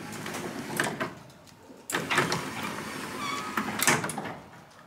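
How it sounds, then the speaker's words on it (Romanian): The doors of an Alfa Romeo car, stored in a garage for two years, open with a couple of distinct clunks and rattles amid quiet room noise. "Se deschid ușile după 2 ani de zile de când această bijuterie stă în garaj."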